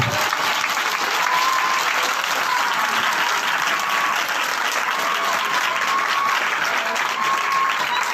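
A church congregation at a night blessing meeting claps in praise, producing dense, sustained applause from many hands that stays steady and loud for the whole stretch.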